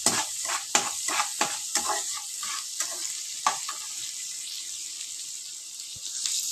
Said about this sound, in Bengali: এবারে পেঁয়াজটাকে বেশ কড়া করে ভেজে নেবো লাল লাল করে।